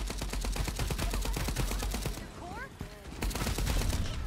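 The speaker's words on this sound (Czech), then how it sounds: "Co po mně střílí" Rapid bursts of automatic gunfire crackle through a match of the video game Fragpunk, dense repeated shots that pause briefly mid-clip before resuming, with a voice speaking faintly beneath.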